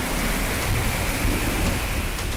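A heavy thunderstorm over Delhi-NCR, with a steady, dense hiss of rain and low rolling rumbles of thunder that fill the background continuously at close range, with no voices.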